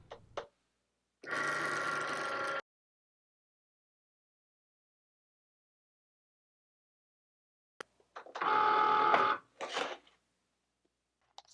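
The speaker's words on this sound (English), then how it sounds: "The process of scoring and cutting the labels took about 1 minute and a half." A Cricut cutting machine scores and cuts printed labels, giving two short whirring, buzzing bursts of motor and carriage movement with quiet pauses between them, plus a few faint clicks.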